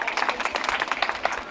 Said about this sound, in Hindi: अभी भी ताली पूरी नहीं बज रही